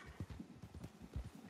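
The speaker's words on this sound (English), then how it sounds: "Oh no, I think those are horses." Horse hooves clip-clopping in the video game Red Dead Redemption, a quick uneven run of soft thuds at moderate distance, alone with no talk.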